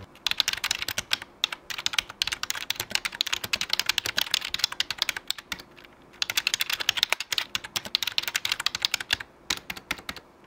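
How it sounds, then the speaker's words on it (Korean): Steady, fast typing on a Logitech K480 keyboard used with an iPad, with dense clicky keystrokes running continuously at close range and only brief pauses. "이렇게 제가 타이핑을 한번 해봤는데요"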